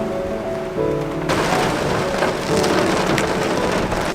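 Steady rain pouring during a trip in Hawaii, a close hissing patter that thickens abruptly after a moment and keeps on heavily, with scattered sharper drops striking a hard surface.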